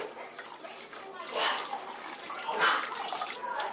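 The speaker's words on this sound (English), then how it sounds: "And then I'm going to add my apple cider vinegar" Apple cider vinegar pouring into a pan for homemade barbecue sauce, a soft continuous liquid trickle that swells slightly, with a voice over it.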